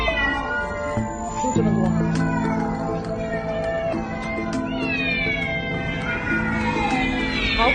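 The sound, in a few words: rescued cats meowing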